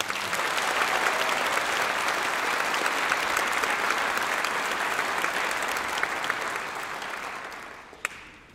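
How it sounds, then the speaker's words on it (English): Concert audience at a high school spring band concert applauding the seniors, a dense steady wash of many hands clapping that holds loud throughout, then tapers off near the end. "One more round of applause for our seniors."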